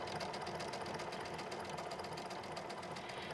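A sewing machine stitches a decorative thread-painting sample in a continuous, even mechanical whir with a fast steady needle rhythm, moderately quiet and without talk.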